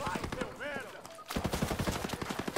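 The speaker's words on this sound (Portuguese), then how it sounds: "Cuidado com a torreta. Torreta automática." Rapid automatic turret fire in Ghost Recon Breakpoint, a dense, loud burst of gunshots that takes over the second half, with a short stretch of talk and whistling tones before it and continuous gunfire to the end.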